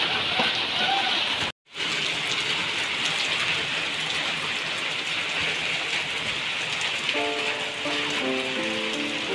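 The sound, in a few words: heavy first monsoon rain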